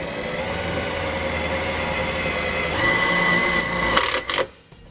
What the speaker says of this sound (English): So I'll take the self-tapping screw supplied in the kit and then just run it through here.